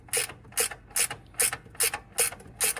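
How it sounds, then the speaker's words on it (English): A GearWrench ratchet clicks in seven crisp, evenly spaced bursts at close range during a Toyota Celica GTS radiator replacement, each stroke a quick rattling of the pawl. "You like that ratchet, don't you?"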